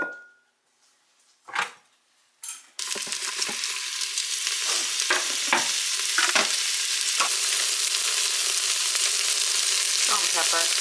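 A few quiet kitchen knocks come first, then food hits hot olive oil in an Instant Pot set to sauté, and a loud, steady close-up sizzle with crackling spits continues to the end.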